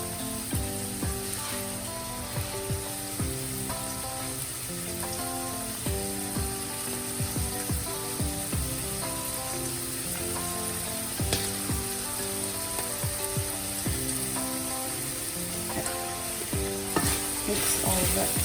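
Apple stuffing with torn fresh sage mixed in a hot pan, a quiet steady sizzle broken by repeated spoon scrapes and clicks against the pan, with a light melodic background and no speech.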